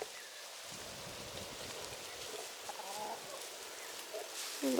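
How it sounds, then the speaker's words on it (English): Chickens in a garden pen give soft, scattered clucks, faint and intermittent over a quiet, hissy outdoor background. "Silly chickens."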